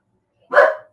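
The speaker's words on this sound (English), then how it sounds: "My dog is barking about something." A pet dog gives a single sharp bark, loud and close, with silence before it.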